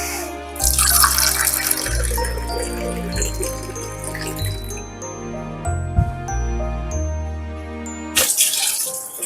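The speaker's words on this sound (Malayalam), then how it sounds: "വെള്ളം ഒഴിക്കാം." Water poured from a measuring cup into a vessel while making homemade grape wine, a steady gushing stream with a brief break and a trickling, tinkling finish before the pour resumes.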